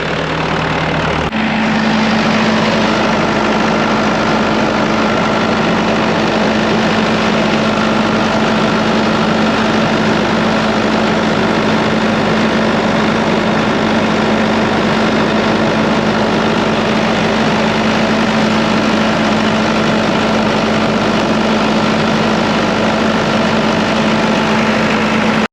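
A loud, steady engine idles continuously at about 1200 revs with a constant low hum and rattling vibration, running evenly throughout without variation.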